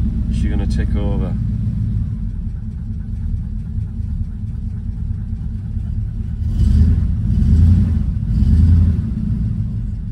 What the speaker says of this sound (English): She's ticking over.